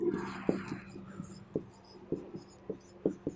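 Chalk or marker taps and scrapes across a classroom board in short irregular strokes with small knocks between them. A faint voice murmurs underneath.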